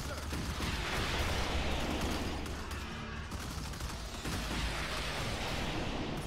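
Explosions and rapid gunfire from a sci-fi strategy battle in Starship Troopers: Terran Command, a dense, continuous barrage of blasts and shots with no pauses.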